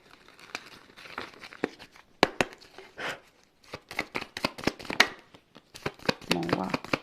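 Tarot cards are drawn and handled in a series of sharp, close flicks, snaps and rustles at an irregular pace, with someone speaking French between them.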